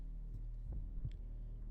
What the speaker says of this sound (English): his heart pounding.